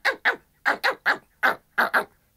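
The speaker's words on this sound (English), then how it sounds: "Jiro began barking excitedly." A dog barks rapidly and excitedly, about eight sharp, loud barks in quick uneven bursts, close by with silence between.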